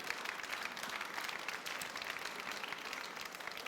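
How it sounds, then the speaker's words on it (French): An audience at an awards ceremony applauds school directors with dense, even clapping that holds steady throughout, heard faintly as if from a distance. "Je vous demande de les applaudir très très fort"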